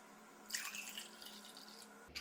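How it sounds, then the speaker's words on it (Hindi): Water is poured into a glass while serving saffron-almond sharbat, a soft, faint splashing trickle that starts suddenly and runs for over a second before a brief final splash. "और 1 में पानी डालेंगे।"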